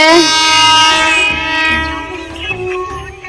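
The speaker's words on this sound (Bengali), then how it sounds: "এই যে আমাদের ট্রেন মশাই চলে এসেছে" A train approaching in the open countryside sounds a long, loud, sustained horn that fades slightly as the rumble of the moving train continues underneath.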